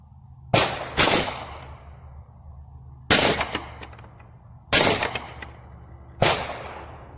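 Four sharp, loud pistol shots from a Hi-Point handgun firing Winchester ammunition, spaced a second or two apart. Each crack is followed by a brief echo, with no talk.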